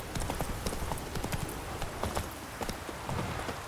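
Horse hooves clip-clopping at a steady gallop in The Witcher 3: Wild Hunt, a dense run of sharp repeated hoofbeats, close and fairly loud, with game ambience underneath and no talk.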